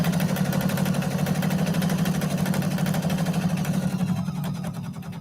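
A sewing machine stitches 2.5-inch quilt strips for a 4-patch block, its steady rapid motor whir running continuously close up and easing off near the end.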